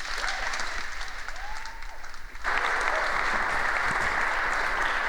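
Applause from a conference audience at an education summit, moderate clapping that swells abruptly halfway through into a louder, fuller round that keeps going.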